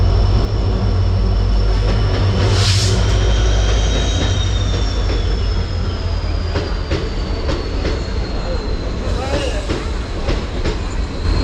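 The Tutari Express rolls into a crowded Konkan Railway station at Sangameshwar during the monsoon. A loud, continuous rumble and wheel clatter run throughout, with a high, drawn-out squeal and a murmur of crowd voices.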